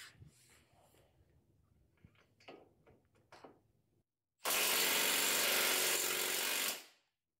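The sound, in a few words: small cordless impact wrench trying to loosen a bolt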